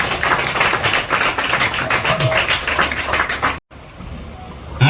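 An audience at a student ceremony claps loudly in a dense, sustained burst that breaks off abruptly, then resumes more faintly.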